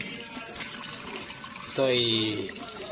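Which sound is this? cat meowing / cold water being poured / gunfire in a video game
cold water being poured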